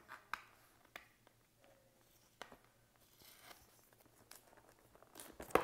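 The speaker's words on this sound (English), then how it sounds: "To open it up, we just pull this tape off the top here." Packing tape is peeled off the top of the cardboard box of an NVIDIA Jetson Orin Nano Super developer kit. Quiet, close, intermittent tearing, crinkling and small clicks are heard, growing louder near the end.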